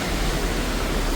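Steady, loud rushing of high-pressure water in a rain-swollen mountain stream, a dense continuous roar filling the whole short span with no voices.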